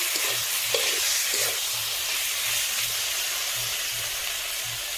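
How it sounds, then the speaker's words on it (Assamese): Chicken meat frying and being stirred in a pan while cooking a bamboo-shoot chicken curry: a continuous close sizzle with regular rhythmic scraping strokes of the spoon, no talk. "মাংসখিনি এতিয়া ভালকৈ ভাজি ল'ম। ভাজা নোহোৱালৈকে মই লৰাই থাকিম।"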